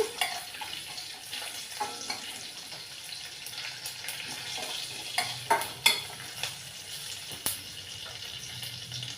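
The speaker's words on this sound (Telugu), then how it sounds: "ఇది మినపప్పు ఆవాలు జీలకర్ర వేసాను ఇవి కొంచెం వేయించుకోవాలి" Urad dal, mustard seeds and cumin frying in oil in a pan for a ridge gourd and moong dal curry: a soft steady sizzle with occasional spatula scrapes and clinks, no voices.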